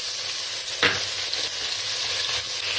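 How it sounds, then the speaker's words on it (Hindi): Garlic and ginger are dropped into onions frying in a pot, a sharp splash at the moment they go in and then a loud, continuous close-up sizzle. "अब इसमें लहसुन अदरक डाल दें"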